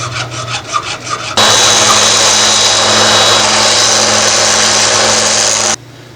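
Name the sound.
hacksaw cutting PVC grip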